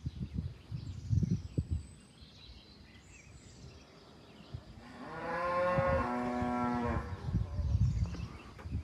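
Low rumbling handling noise opens and closes the clip. In between comes one drawn-out, fairly close cow moo lasting around two and a half seconds, heard outdoors by the empty mountain village of Aneto in Spain.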